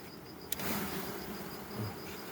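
Carniolan honey bees buzzing around an open hive during honey harvest, a steady close drone with a brief sharp click near the start; no talk.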